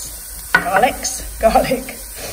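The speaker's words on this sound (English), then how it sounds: "I'm just browning off the mince" Mince browns in a frying pan on a home stove, a steady close sizzle broken by two loud bursts of stirring and scraping against the pan.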